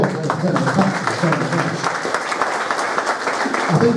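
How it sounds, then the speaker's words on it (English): An audience claps steadily at a British Touring Car Championship media day, with a voice talking over the continuous applause throughout. "One more round of applause"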